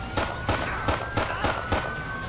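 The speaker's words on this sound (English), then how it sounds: "Shots fired on him." Gunfire in GTA 5 during a police chase, about six sharp cracks in fairly quick succession, loud and near, over a low rumble with a steady tone.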